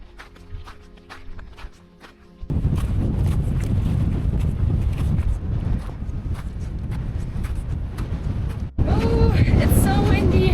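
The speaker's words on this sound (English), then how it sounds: "Oh, it's so windy." Strong wind on icy open winter moorland during the Winter Spine Race, a loud, steady roaring buffet of gusts across the microphone that swells in sudden bursts, with faint footsteps and no clear talk.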